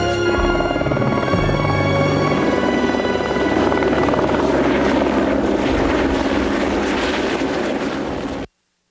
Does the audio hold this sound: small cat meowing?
no